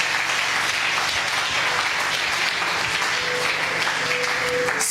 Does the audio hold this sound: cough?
no